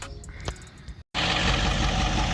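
A Ford F350 7.3 Powerstroke diesel engine with its exhaust disconnected runs steadily, a rough, loud raw broadband roar after a brief cut, with a quieter idling rumble before it.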